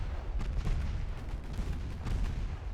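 Naval gunfire in a video game battle against a heavy cruiser: heavy, rumbling booms from large guns, a few loud muffled blasts overlapping one another in a continuous low roar.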